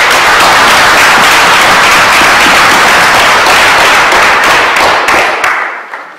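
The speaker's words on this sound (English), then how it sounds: "A round of applause for everyone." Loud, sustained applause from a large crowd congratulating everyone involved in a show, a dense roar of clapping that holds for several seconds, then fades out with a few last scattered claps.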